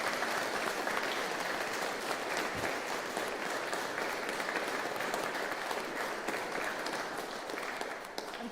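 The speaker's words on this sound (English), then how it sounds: "Shall we give them a clap," A church congregation at a choral Holy Eucharist gives a sustained round of applause, an even, moderately loud patter of many hands that tapers slightly at the end, with no voices over it.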